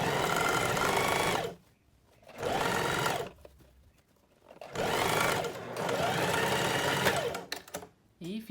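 A sewing machine stitches a blouse with a horizontal panel seam in three whirring runs of rapid needle chatter, separated by short pauses, close and loud, with someone speaking.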